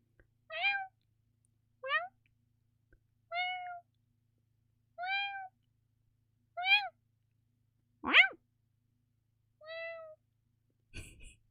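A voice imitating a cat gives a string of about eight short, clear meows at a steady pace, each one alone with silence between, ending in a brief scuffing noise.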